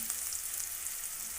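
Sliced onions fry in a pan for chicken curry, giving a soft, steady sizzle and crackle with no voices.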